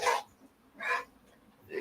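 French bulldog barking, three short sharp barks spaced with pauses, close and fairly loud, with no talking.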